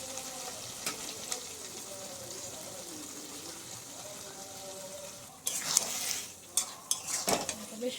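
Mutton sizzles gently in a pan, with metal spoon scrapes and clinks as it is stirred; the stirring grows louder and more frequent near the end, with no voices.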